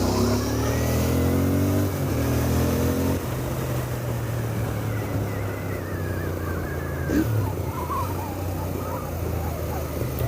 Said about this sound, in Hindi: एग्जॉस्ट साउंड है इसका